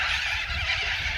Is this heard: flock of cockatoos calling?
yes